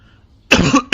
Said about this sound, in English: I'm sorry about the cough again